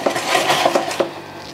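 Quick, light clatter of a plastic kitchen chopper slicing cucumber, several sharp chopping clicks in close succession near the mic, with no talk.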